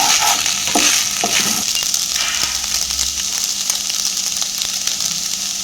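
Boiled Maggi noodles stirred with salt in a hot pan: a steady, fairly loud sizzle and hiss with irregular scrapes and taps of the utensil, with no talking.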